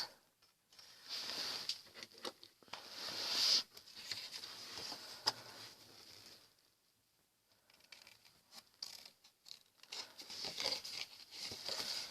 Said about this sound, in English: And then with the pair of scissors we can cut our hat.